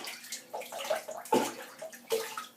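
A synthetic shaving brush from Frank Shaving is dipped and swished in water, giving a few short splashy sloshes and drips at close range, quiet and uneven with no speech.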